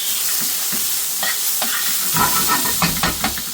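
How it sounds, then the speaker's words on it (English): Onions frying in a pan for Bombay potatoes, a steady close sizzle with irregular stirring scrapes and clatters that grow busier toward the end. "As soon as the onions start to cook, they start to separate their layers."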